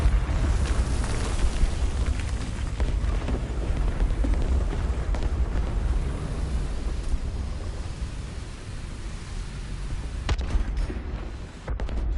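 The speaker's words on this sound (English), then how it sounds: "Oh, it's artillery." A distant artillery explosion in the tank combat video game War Thunder comes through as a long, low, rumbling boom that stays broad and noisy throughout, with a few sharper cracks toward the end.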